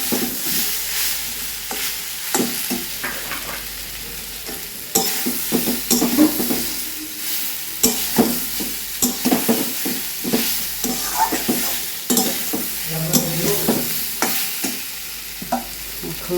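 Spice masala for a fish-head muri ghonto is stir-fried in a pan, with close, steady sizzling broken by frequent scraping and clattering strokes of a spatula.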